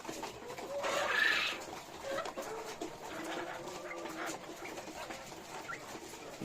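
Male quails calling inside a brooder: faint repeated chirping calls over a soft continuous background hum, with one louder burst early on and scattered shorter calls after, no talking.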